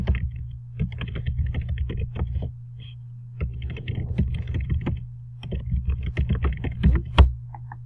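Typing on a computer keyboard while waiting for Word to open in an Office 365 setup: close, crisp key clicks in quick irregular bursts with short pauses, over a steady low hum.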